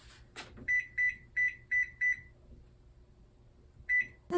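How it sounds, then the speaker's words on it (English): A kitchen oven timer being set gives five quick electronic beeps in a row, then a pause and one more beep, sharp and close in a quiet room. "Let's set the timer."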